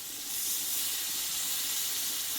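Ground poppy seed and cashew paste hits a hot pan of spiced potato and pointed gourd curry, a steady bright sizzle that starts abruptly and hisses on evenly.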